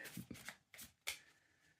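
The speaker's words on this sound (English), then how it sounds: "So here, Cards Against Humanity. I'm shuffling on screen." Cards Against Humanity playing cards being shuffled, with several quick riffling bursts in an uneven rhythm, close and fairly quiet, followed by a short fading tail.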